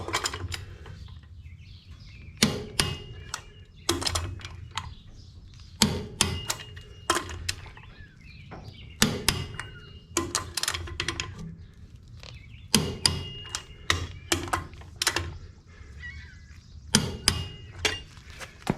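A torque wrench tightening trailer wheel lug nuts to 110 foot-pounds on a Sure Trac trailer, giving sharp metallic clicks in bursts. Clusters of loud clicks are separated by quieter pauses and some handling noise.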